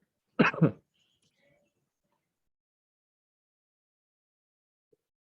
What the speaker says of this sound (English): having really bad cough